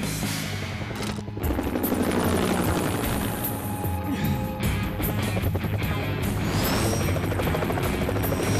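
A helicopter flies close by, its rotor chopping steadily and loudly throughout, with a brief dip in the roar near the start before it surges back.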